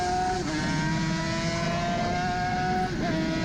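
Loud, sustained high-revving two-stroke Suzuki RG500 racing motorcycle engine whine at just over 11,000 rpm, held at a steady high pitch with a brief dip and recovery, heard up close.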